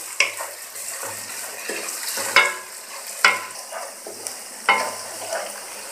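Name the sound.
garlic ginger paste frying and stirred in pan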